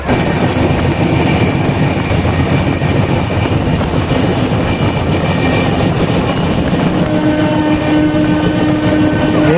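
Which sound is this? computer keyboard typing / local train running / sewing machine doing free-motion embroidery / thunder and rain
local train running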